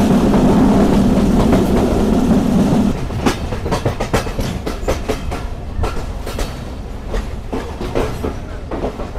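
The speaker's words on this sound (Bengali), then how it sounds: "আন্তনগর বাংলা বান্দা এক্সপ্রেস প্রবেশ করছে নাটোর রেলওয়ে স্টেশনে" The Banglabandha Express intercity train rolls into Natore railway station, a loud steady rumble giving way to rhythmic clickety-clack of wheels over rail joints, close by.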